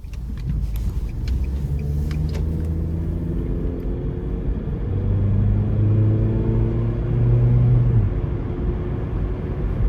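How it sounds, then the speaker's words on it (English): A 2009 Nissan Versa 1.8S hatchback with a CVT drives on the road, its steady engine drone and road rumble heard from inside the cabin, rising gradually in pitch and loudness as it accelerates. "let's go ahead and take this Versa out on the road for a quick test drive"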